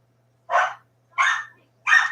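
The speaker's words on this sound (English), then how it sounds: "Sometimes they bark at ghosts." Three loud, sharp dog barks, likely from a herding-breed dog at home, spaced evenly about two-thirds of a second apart with silence between each bark.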